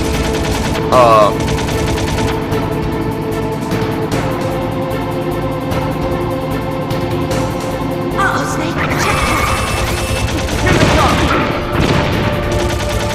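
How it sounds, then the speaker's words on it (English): First-person gunfire in Metal Gear Solid, dense overlapping shots over a continuous game soundtrack, with a louder burst of impacts near the end. "you see me shooting in first-person view"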